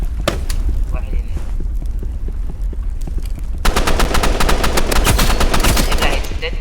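Gunfire in the Roblox video game: rapid, loud bursts of shots throughout, intensifying into denser automatic fire in the second half, with a player talking over it.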